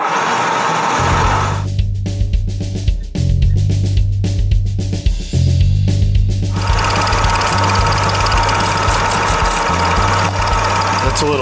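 A cutter trims a cast aluminum motorcycle wheel hub, giving a loud, steady, grinding mechanical drone close by that wavers in pitch and intensity throughout.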